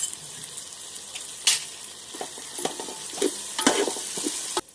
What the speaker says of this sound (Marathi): हे कांद्याचे तुकडे केलेले हे घालते. त्याच्यामध्ये अद्रक लसूणची पेस्ट.